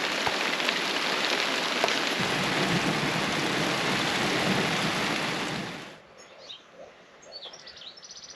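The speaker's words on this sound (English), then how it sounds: "I love a random June rainstorm" A sudden June rainstorm beats down steadily on an off-grid homestead, a dense, loud hiss that fades away after about six seconds. Scattered birdsong and chirps remain once it stops.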